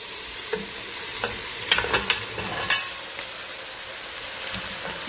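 Food frying in a pan with beef nearby crackles and sizzles close up while a utensil stirs and scrapes, several sharper clinks landing in the middle, with no talking.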